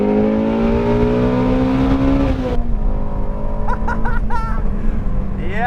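Ford Mustang GT350 engine winding up hard to about 8,000 RPM, a loud rising harmonic howl that peaks and drops away sharply, then rumbles at lower revs with a few brief high chirps.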